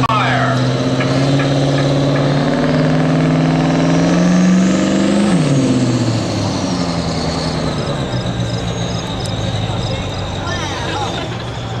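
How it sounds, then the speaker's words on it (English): Big rig semi truck engines rev at a truck pulling event, a loud rising roar with spooling turbochargers whining high, the pitch climbing then dropping, with an announcer talking over it. "They'll slowly bring up the RPMs, get them turbochargers spinning"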